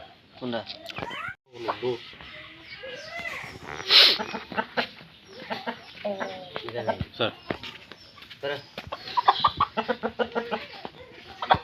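Backyard Aseel chickens cluck and call close by in short, scattered bursts, mixed in with continuous talking.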